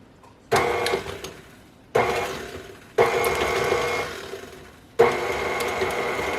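A stand mixer fitted with a bowl scraper attachment mixes banana muffin batter made with einkorn flour, its motor whirring loudly in four bursts that start abruptly, run a second or two, then stop.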